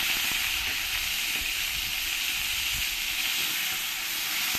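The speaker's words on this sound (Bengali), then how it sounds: "এবার এর মধ্যে দিয়ে দেবো আমি যে পেঁয়াজ পেস্ট করে রেখেছি" Onion paste frying in hot oil with bay leaf and dried chilli, a steady, fairly loud sizzle and hiss that runs unbroken throughout with no talking.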